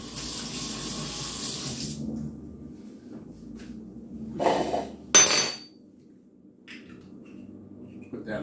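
Metal lid of a charcoal grill roasting a leg of lamb is handled, with a brief scrape and a sharp clanging clatter close by, then quiet, after a stretch of steady hiss.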